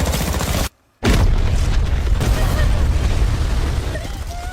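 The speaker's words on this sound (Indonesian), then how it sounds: "mengambil sebuah granat untuk ia lempar ke dalam terowongan" In a film scene, a grenade explodes in a tunnel: a sudden heavy boom bursts in after a moment of dead silence, followed by a loud, rumbling roar that slowly fades.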